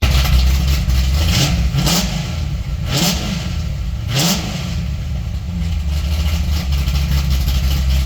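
A Corvette Z06 engine, freshly rebuilt with new fuel injectors, rumbles at idle and surges through several sharp revs in a row, loud and close with no voices.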